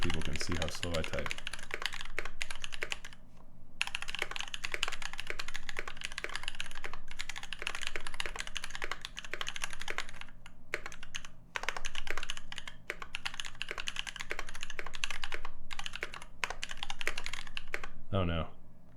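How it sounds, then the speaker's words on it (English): Steady, fairly fast typing on a computer keyboard, clicking continuously with brief pauses, close by and fairly quiet; a voice briefly breaks in near the end. "I'm going to finish up this typing test so people can see how slow I type."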